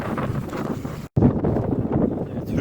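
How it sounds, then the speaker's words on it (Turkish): Strong wind buffets the microphone in a continuous roaring rush outdoors at an apiary during a March storm, briefly cutting out for a moment before resuming just as loud. "rüzgar bayağı sert"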